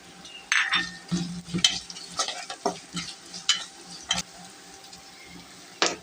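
Black cumin seeds with ginger, garlic and turmeric frying in hot oil, close crackling and sizzling in irregular bursts with scraping stirring sounds from the pan.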